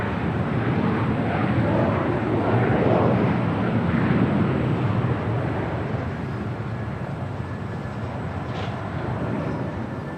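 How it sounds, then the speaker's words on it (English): An SAS Scandinavian Airbus A350 airliner taxiing on the south side of Los Angeles International Airport gives a loud, steady broadband jet engine roar that eases slightly toward the end, with no voices. "Outside the SAS Scandinavian A350 heading back to Copenhagen. Starting her taxi here on Bravo here on the south side."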